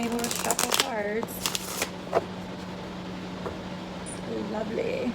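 Quick bursts of tarot card shuffling come early on, mixed with a voice speaking briefly, followed by faint taps over a low steady hum.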